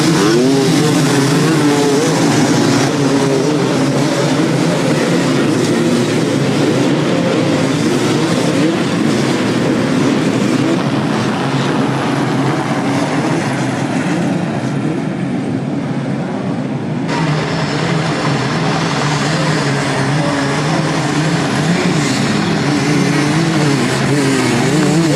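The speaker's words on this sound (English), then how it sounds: "Riders are pushing their bikes up an extremely steep and slippery slope covered in rough dirt" Dirt bike engines rev and strain on a steep, slippery hill climb over rough dirt, a loud sustained droning roar that dips briefly midway before surging back, with no talking.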